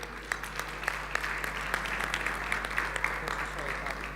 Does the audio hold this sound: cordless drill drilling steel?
no